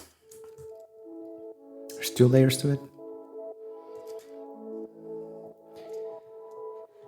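A sustained, layered drone from the Spitfire Audio Olafur Arnalds Cells plugin holds steady tones in a music track, playing continuously beneath a voice talking over it.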